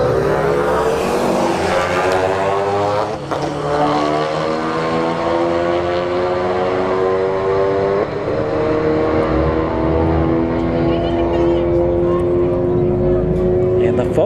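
A Ford Focus and a Subaru WRX STI drag racing side by side at a street-heat event, engines climbing in pitch through gear changes, loud and sustained, with crowd or announcer noise mixed in.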